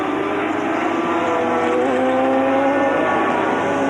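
A racing sidecar engine at the 2000 German sidecar world cup, revving hard and continuously, a loud, buzzing high-pitched whine that climbs and holds near the listener with no breaks and no talk.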